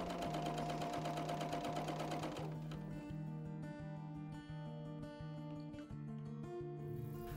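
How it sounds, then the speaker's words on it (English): A BERNINA overlocker stitches a test seam with thick decorative threads and woolly nylon, a fast even mechanical whir that shifts to a slightly different rhythm partway through, close and steady with no talking. "Test sew to determine the optimal thread tensions."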